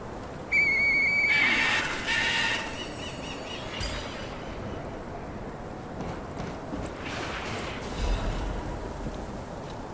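A whistle is blown in the Lies of P video game, a clear trilling whistle tone lasting about a second, followed by a horse whinny and soft game ambience.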